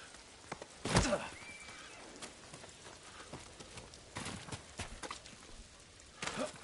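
A horse in the video game Ghost of Tsushima, with scattered hoof clops and a brief whinny against a soft rain-like background, fairly faint and intermittent.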